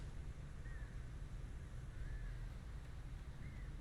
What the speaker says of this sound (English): Didn't think birds would make that much noise.